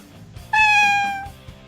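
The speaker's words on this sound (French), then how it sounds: "Tiens, qu'est-ce qu'il fait là, ce chat?" A cat meows once in a video game scene, a single clear, bright, falling meow lasting under a second, close and alone with faint background sound.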